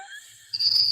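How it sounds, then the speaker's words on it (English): Crickets-chirping sound effect played as a deadpan joke during a live virtual quilting festival; a steady, bright, high chirping drone starts about halfway through and continues alone. "That's crickets."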